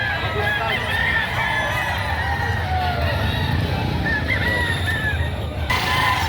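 Chickens, including stag roosters, at a livestock market in Padre Garcia, Batangas, with occasional crowing and clucking over a steady, loud wash of crowd and market noise throughout.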